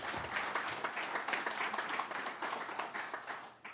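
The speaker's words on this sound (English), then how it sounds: "big round of applause for today's event" A round of applause from the audience at a library reentry panel event, steady dense clapping from many hands at moderate volume, continuing evenly before tapering off at the end.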